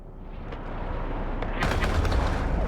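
Ship guns fire in the space game Eve Online, a low rumbling barrage that builds steadily and then bursts louder and brighter partway through, with no talking.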